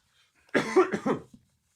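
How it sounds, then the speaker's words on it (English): A single close, loud cough, a short burst with two quick pulses, then silence. "Let me cough for a second."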